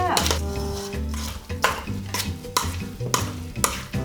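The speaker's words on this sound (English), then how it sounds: "Well, I gotta stir, honey." A lentil meatball mixture is stirred in a bowl, giving repeated rhythmic scraping and clacking strokes of a utensil against the sides, with a voice briefly speaking in the background.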